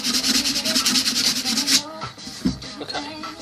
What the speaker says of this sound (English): then we'll go in with a finer grade sandpaper to smooth everything out very nicely.